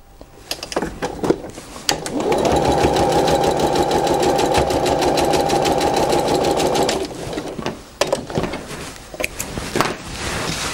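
A domestic sewing machine stitches a quarter-inch seam on a patchwork Churn Dash quilt block, running in one steady loud burst of several seconds, with fabric handling clicks and rustles before and after.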